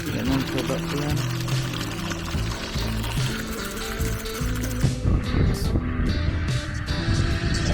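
Water pours steadily into a cattle trough with a continuous rushing splash, loud and close, while people talk over it.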